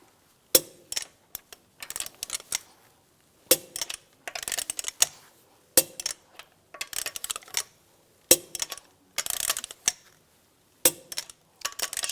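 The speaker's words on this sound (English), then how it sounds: "I'm going to torque the lug bolts down to 89 foot-pounds in a cross pattern" A wrench works on the lug bolts of a Volkswagen Beetle wheel in a garage, with repeated bursts of rapid metallic clicking broken by short silences, close and crisp.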